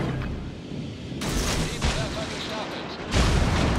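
Ship guns fire in the World of Warships naval game, on the premium destroyer Acasta, giving deep booming salvos and rumbling blasts over continuous battle noise, with someone talking over them.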